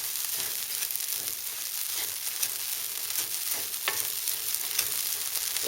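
Smoked Hunan pork sizzling and frying in a wok as it is stirred, a steady crackling hiss with soft scraping, fairly quiet and continuous.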